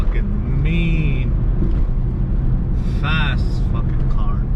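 A Coyote-swapped 2003 Ford Mustang Cobra engine runs at light, partial throttle, a steady loud rumble filling the clip with a few brief higher whines and squeals riding over it.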